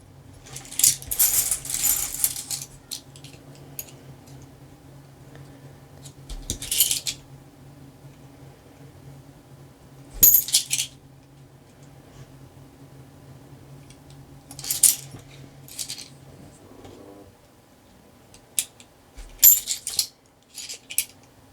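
Bronze coins sorted during a hunt through a large hoard, with clusters of bright metallic clinks and jingles as handfuls drop, separated by quiet stretches over a faint steady hum.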